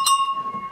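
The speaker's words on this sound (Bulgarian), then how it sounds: "Еми ги камбаните, цяла гордост." A single metallic clang of a sheep bell (hlopka) rings out once, bright and fairly loud, its tone fading over under a second.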